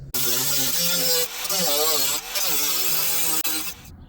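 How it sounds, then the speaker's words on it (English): Metal sheet being cut out as a pattern for a snow blower discharge chute repair, a continuous harsh cutting whine with wavering pitch, loud and close, briefly dipping twice before resuming, no talk. "So I'm gonna cut this out in here and bend it and install it in place."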